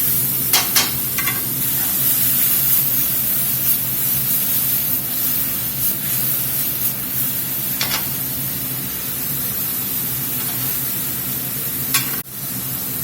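Beer poured into a hot pan of mushrooms and herbs reducing down, a steady hissing sizzle with a few brief clinks and stirs, no talking.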